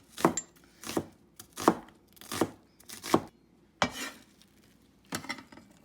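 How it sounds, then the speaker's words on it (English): Pork is shredded on a board in a series of about seven firm, evenly spaced chopping or tearing thuds, close and clear with quiet gaps between. "Shred it this way."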